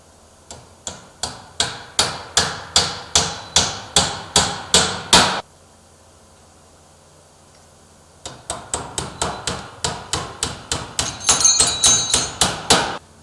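A hammer drives nails into a replacement door frame with sharp, close, evenly spaced blows, about a dozen in a quick run. After a short silence a second, faster run follows.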